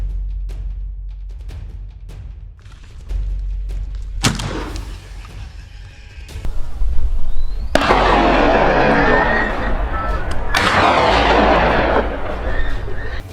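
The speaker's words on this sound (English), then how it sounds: "Quickly regaining focus, I pulled the trigger repeatedly." Repeated gunshots aimed at a wild boar on farmland, a burst of sharp reports building into loud, dense, overlapping blasts that run for several seconds.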